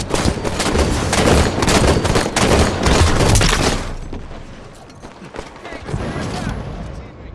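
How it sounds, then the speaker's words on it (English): Rocket launcher fire and explosions in a video game battle, loud dense bursts of gunfire and booms for the first four seconds, then fading to scattered, softer blasts and rumble. "Rocket launchers on the field."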